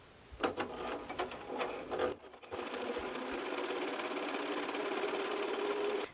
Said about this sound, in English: we're going to take these first two pieces and sew them together pretty side to pretty side